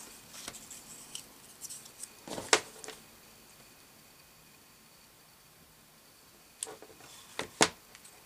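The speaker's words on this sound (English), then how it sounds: "cut some of that off" Scissors snipping paper during a canvas craft project, a few sharp, crisp cuts grouped in two short bursts separated by a quiet pause, close and soft with no speech.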